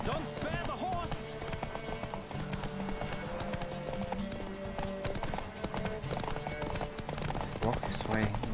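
Galloping horse hooves from The Witcher 3 drum in a quick, even rhythm under a layer of game music, and someone speaks over the hoofbeats throughout.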